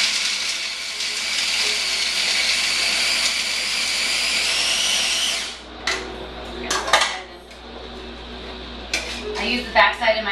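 A blender whirs steadily for about five seconds, blending vegan basil pesto with black pepper, then cuts off. Short clatters and scrapes from the bowl follow.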